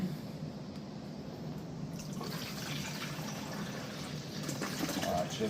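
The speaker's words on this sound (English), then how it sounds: "I'm going to dump the water in." Water pours into a 12-cup coffee maker's reservoir in a kitchen, a soft steady splashing fill that swells toward the end, with a voice talking faintly under it.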